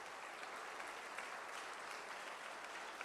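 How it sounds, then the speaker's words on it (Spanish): Church congregation applauding during a Spanish-language sermon, a steady dense clapping that fills the whole stretch at moderate volume, heard from within the room without speech. "Denle un aplauso por esta palabra al Señor."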